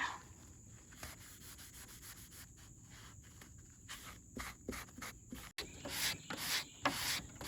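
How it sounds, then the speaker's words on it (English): Quiet, repeated rubbing strokes of sandpaper lightly sanding wooden decoration pieces, soft and close, with a few sharper scrapes and knocks near the end. "Doing just a really light sanding on these pieces just to clean them up a little bit"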